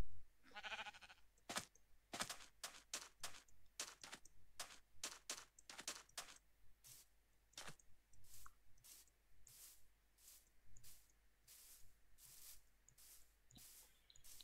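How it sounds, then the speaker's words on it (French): Sheep bleat in a video game, and sharp rapid clicks like keyboard typing run through the whole stretch, some in quick bursts and others spaced apart, with no talking. "y'a que des moutons blancs et un mouton noir"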